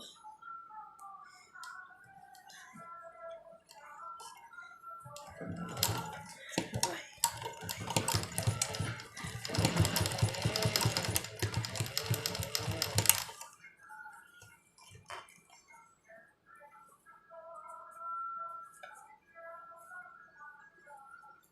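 A new domestic sewing machine stitches fabric for a homemade bra, giving a dense, fast mechanical rattle that runs for about eight seconds, with speech before and after it.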